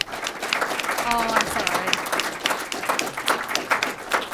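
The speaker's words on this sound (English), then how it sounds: "Let's give a round of applause." An audience applauds panelists after a lecture discussion on the Supreme Court and marriage, with steady clapping throughout and a brief spoken remark over it near the start.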